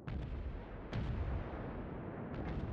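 Heavy naval gunfire from World of Warships, submarine-mode battle: loud booming shots, one at the start, a bigger blast near one second and another near the end, over a continuous low rumble.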